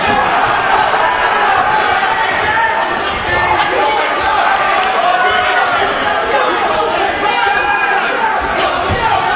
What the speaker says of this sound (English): The crowd making some real noise here for Turner.